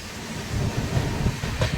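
A powerful locomotive pulling only a few coaches runs along a railway track beside a highway in Gujarat, heading toward Ekta Nagar, making a steady, close low rumble that swells slightly midway and continues throughout with no talk.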